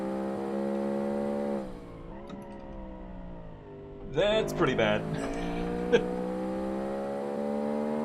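Sports car engine with a turbo in the Automation car-building game, revving high in sustained rising and falling tones that swell sharply midway, with someone talking over it.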